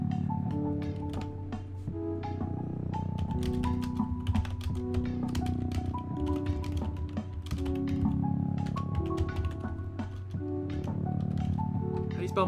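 Keyboard typing on a computer during a Baba Is You session: rapid clusters of light key taps throughout, layered under a steady background of game music.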